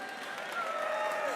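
An audience applauds and cheers at a Pride Month kickoff event at the Mayor's Office, a dense continuous wash of clapping heard for a short stretch.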